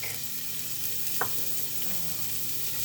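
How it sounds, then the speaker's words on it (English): Diced onions and garlic sautéing in olive oil in a pan give a steady, close sizzle and crackle throughout, with one brief sharper pop near the middle and no talking. "We'll hit it with a little bit of olive oil and some diced onions and garlic."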